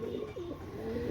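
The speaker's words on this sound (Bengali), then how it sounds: "কবুতরগুলো দেখেন, ইনশাল্লাহ আপনাদের ভালো লাগবে।" Pakistani high-flying pigeons coo softly nearby, a low, rolling throaty call repeated in a brief burst over faint background noise.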